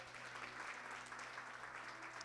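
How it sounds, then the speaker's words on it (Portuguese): Steady, distant congregational applause fills a church service, a soft continuous wash of many hands clapping without pauses. "Dê um aplauso ao Senhor"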